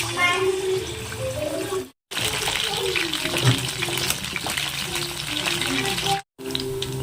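Chicken 65 deep-fries in hot oil in a home kitchen, a steady, close hiss and bubbling sizzle with two brief cuts, while a person talks over it.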